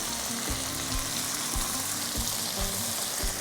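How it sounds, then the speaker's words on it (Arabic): Garlic and tomato frying in a pan, with a steady, close sizzle and crackle and occasional soft stirring knocks, no voices. "هنبدأ ننزل بالثوم يا دوبك بس حمسة خفيفة. هنحط الطماطم حقتنا وملاعقة صلصة"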